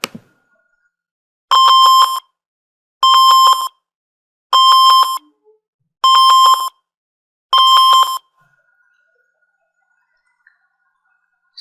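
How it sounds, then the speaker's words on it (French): Five evenly spaced electronic beeps from a computer rebooting during a Sophos UTM 9 installation, each about half a second long, sounding loud and close, followed by near silence. "Ces bips-là, ils nous dérangent trop"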